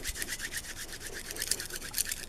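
Shungite stone being rubbed, a close, quiet, rhythmic scrubbing of rapid even strokes repeating steadily throughout with no voices.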